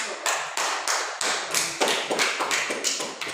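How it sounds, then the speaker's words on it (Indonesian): A small student group in a classroom gives brief, scattered applause, about a dozen sharp, uneven claps close by with nothing else heard. "Mari kita berikan aplaus kepada kelompok 1."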